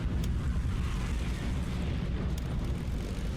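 Naval strike explosions in the strategy video game Hearts of Iron 3, a sustained low rumbling roar of blasts with a couple of faint sharp pops, steady and muffled, no talk.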